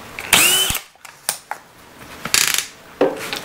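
Cordless hammer drill boring holes with a half-inch bit at speed 3, heard in several short loud bursts that start and stop abruptly, with pauses between them, close up.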